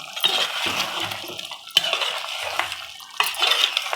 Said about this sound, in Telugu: ఉప్పు, కారం, మసాలాలన్నీ కలిసేలా కలుపుకోవాలి